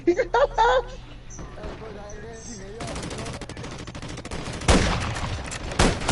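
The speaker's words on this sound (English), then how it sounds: "He's just spinning around and shooting" Rapid bursts of automatic gunfire from Call of Duty Warzone, a dense crackling fusillade running through most of the stretch with heavier volleys near the end, while players talk excitedly over it.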